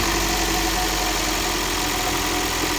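Running 2006 Toyota Prius with a failing electric AC compressor, giving off a steady mechanical hum and buzz with a faint continuous rattle, close up and without talk.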